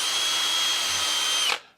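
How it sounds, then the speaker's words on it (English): A power drill spins a wire brush inside a golf club hosel to clean it. The high, steady whir runs loud and close, then cuts off sharply and winds down to silence. "a wire brush on the end of a drill"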